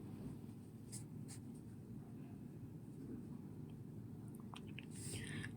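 Handwriting for a class 5 maths exercise on square metres, a steady close scratching of writing that runs throughout with a few faint clicks and no talking.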